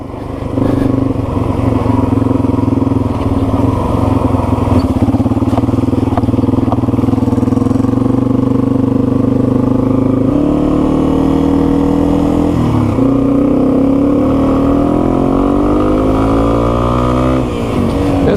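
A Yamaha TW200 dual sport motorcycle with a freshly rebuilt carburetor, its engine droning loud and close during a ride, the pitch rising and shifting as the rider works through the gears.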